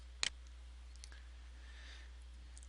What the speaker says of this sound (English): I want you to click on the design button.